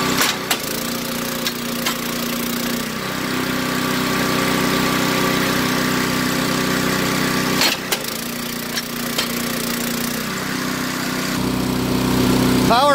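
A PowerKing kinetic log splitter engine runs at a steady idle close by throughout, with a couple of brief sharp mechanical knocks as the splitter cycles and a voice talking over it.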